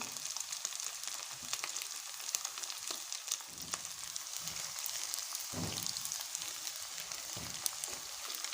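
Rice crackers (chawal ke sev) frying in hot oil give a soft, steady bubbling sizzle with scattered crackles and brief scrapes of a spatula, fairly quiet and without speech.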